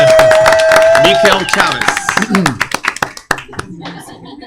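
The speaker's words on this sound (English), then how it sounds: "give a bartender a round of applause right here" A crowd in a bar applauds the bartender, scattered claps and cheers mixed with loud talking and shouting, with the clapping thinning out toward the end.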